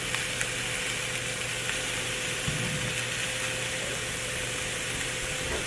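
Bacon frying in a pan, a steady broadband sizzle with faint crackles and pops running evenly throughout, close and moderately quiet with no talking.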